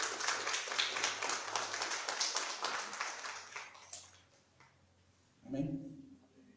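A church congregation applauding the Lord at a worship service, dense sustained clapping that fades out after about four seconds, followed by a voice speaking.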